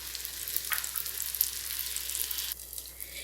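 Tomato dosa batter and oil sizzle on a hot pan, a close, steady hiss with a brief flare early on that drops to a quieter sizzle after a couple of seconds.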